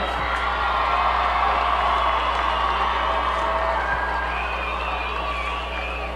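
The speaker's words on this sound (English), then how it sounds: "Let's give them a round of applause for the ball game this evening." Crowd noise at a 2004 Ohio Division II high school state championship football game between Brookhaven and Avon Lake, a steady wash of cheering and whoops that fills the stadium with no break for the whole stretch.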